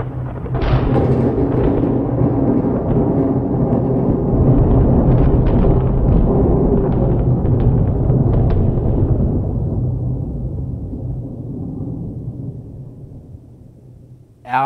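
A deep, rolling thunderstorm rumble plays from an interactive cloud speaker lamp, loud and sustained for several seconds, with crackling bursts riding on top before it slowly fades away.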